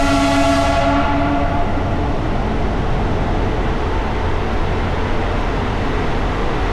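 A train on the Katra to Srinagar line runs through Tunnel No. 35 toward Reasi, a steady loud rumble of wheels and cars with a horn blast at the start, alone without talk.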